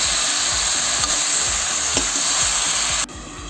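Malabar spinach (pui shak) frying in a pan, a steady dense sizzle with soft stirring scrapes throughout, close and loud, dropping to a quieter hiss near the end.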